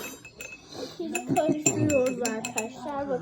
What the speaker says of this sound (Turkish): İyice karıştırman lazım şimdi onu.